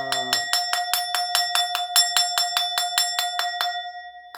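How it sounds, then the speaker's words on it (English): A small bell rings rapidly and repeatedly, about fifteen bright clear strikes in quick steady rhythm, close and alone. "I love ringing the bell for the angels."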